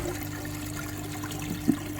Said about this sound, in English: There we go, the tub's now filling up.